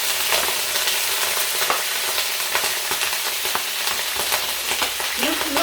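Vinegar, about a quarter cup, hits a hot frying pan of browning eggplant moussaka ingredients, giving a loud, steady broadband sizzle with crackling spits throughout, close up and alone without talk.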